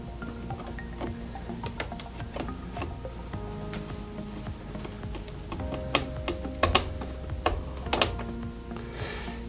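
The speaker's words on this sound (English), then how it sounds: "what I'm gonna do is I'm gonna install my screws. So make sure they're pretty snug." Small screws being driven snug to mount a daughter card inside a Pentair IntelliCenter pool controller, heard as a steady run of close, light clicking and ratcheting ticks with a few sharper snaps toward the end.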